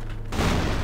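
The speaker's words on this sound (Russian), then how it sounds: "Ложись, граната!" A grenade explodes in the CrossFire shooter game: a sudden loud, broadband blast erupts after a brief quieter moment and rumbles on to the end of the clip.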